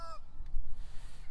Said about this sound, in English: There's so much noise from the birds.